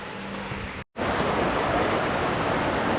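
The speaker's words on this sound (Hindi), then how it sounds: "तो थर्मल बाथ के नीचे ही बिल्कुल यहाँ पे पानी बह रहा है." Water flowing right beneath a sulphur thermal bath in Tbilisi, a dense, constant rushing wash close by, broken by a brief drop to silence near the start before the flow resumes at full level.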